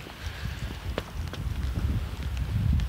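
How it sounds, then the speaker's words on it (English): Steady rain patter with gusty, rushing noise underneath, fairly close and continuous throughout, with no voices. "and it's still raining right now. You can probably hear it."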